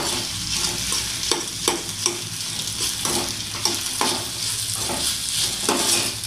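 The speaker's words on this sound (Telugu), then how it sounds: "ఇలా వేయించుకున్న వాటిలో మనం పాస్తా వేసుకుంటున్నాం. పాస్తా వేయించుకుందాం." Pasta sizzles and crackles in hot oil in a pan for masala pasta, with steady frying hiss and repeated scraping stir strokes roughly every half second to second, close and fairly loud.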